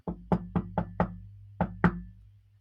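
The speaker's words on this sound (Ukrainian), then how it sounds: "Вілі та Сем постукали у двері." Knocking on a door: two quick groups of firm knuckle raps, four and then two, close and clear against a quiet background.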